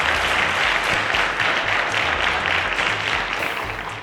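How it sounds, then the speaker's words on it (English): Sustained studio audience applause for six semi-finalists on a quiz show, dense steady clapping that stays loud throughout and eases slightly at the end, with no voices over it. "A round of applause to our 6 semi-finalists."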